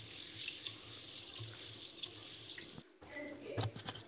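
Mustard seeds washed under a running tap make a soft, continuous splash of water into a sink, with brief rustling and a short pause midway, heard fairly close.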